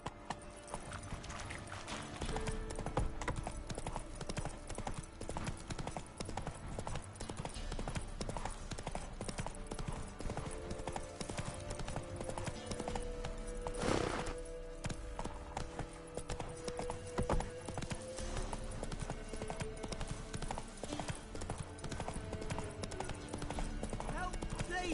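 Roach the horse trotting in The Witcher 3, steady clip-clop hoofbeats running throughout under game music and ambience, with a voice speaking over them.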